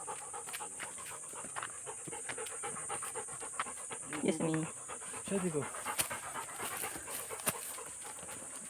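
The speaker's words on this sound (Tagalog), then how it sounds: "Laking aso." A big dog pants in quick, rhythmic breaths up close on a mountain trail, the huffing steady under a faint high hiss while people talk and laugh nearby.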